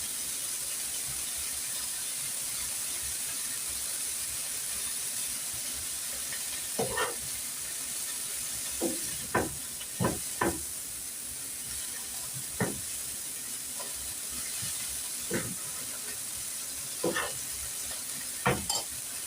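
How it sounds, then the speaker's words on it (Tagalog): Coriander being stir-fried in a pan until its sauce cooks off and it turns dry, heard as a steady low sizzle broken by a handful of sharp scraping stirs spaced irregularly, with no talking. "minix ko po siya hanggang sa mawala yung sauce niya"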